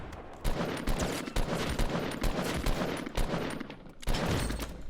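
Dense, continuous gunfire in the video game Fortnite, a steady barrage of overlapping shots and sharp cracks with brief lulls, loud and sustained throughout with no voices.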